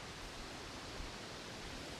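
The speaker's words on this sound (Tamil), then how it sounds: "ஒரு சின்ன ஒரு ஓடை." A small forest stream in Kerala flows with a steady, faint broadband rush of water, even and unbroken throughout, with no voices.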